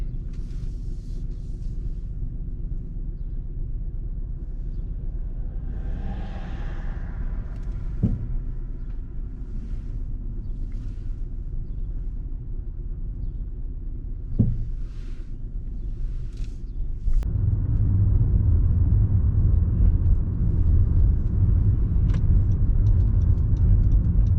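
A car drives slowly on the way to a park, its low engine rumble and road noise steady throughout. A couple of faint knocks sound inside the cabin, and the rumble grows louder near the end.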